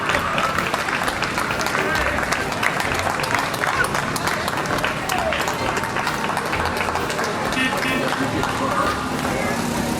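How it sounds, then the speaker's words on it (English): Applause and cheering from a street crowd at a veterans parade honoring American Legion members, a dense continuous roar of clapping with crowd noise throughout, loud and near. "A round of applause for these folks"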